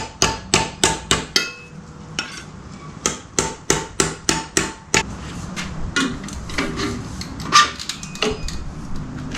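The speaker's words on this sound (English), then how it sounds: "Very light taps. I'm not trying to crunch it, just light." Light hammer taps on the exhaust pipe of a 2015–2021 Yamaha R3 motorcycle, a quick run of sharp metallic taps close up, then a few sparser knocks and some shuffling handling noise.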